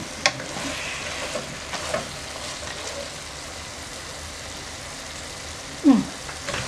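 Chili and coriander powder sizzling as it fries in a pan and gets stirred, a steady low crackle with a few louder scraping stirs, no talking.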